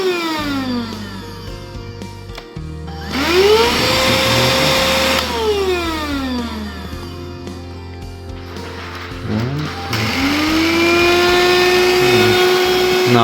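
A Hoover HF1 Flexi Pet cordless vacuum cleaner runs close and loud, its motor whine rising and falling twice as it spins up between power modes, with a steady hum throughout.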